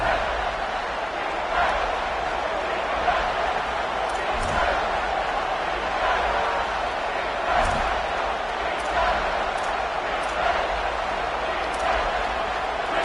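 A steady roar of a large stadium crowd in an American football video game fills the whole stretch, dense and constant, with a few faint thumps and a voice talking over it.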